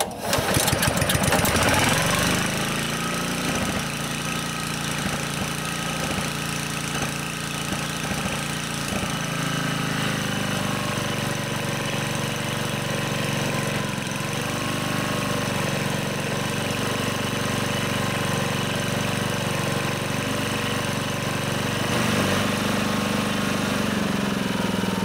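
A small Honda lawn mower engine with plugged carburetor jets sputters to life, then settles into a steady, even idle with a rattling, mid-pitched drone that stays close and constant.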